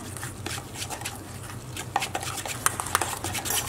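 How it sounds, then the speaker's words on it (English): A spoon works through a bowl of kabab koobideh mince mixed with saffron water, giving soft wet squelching strokes and a few clinks against the bowl, close and steady with no talk. "And give this a good mix, get that well combined."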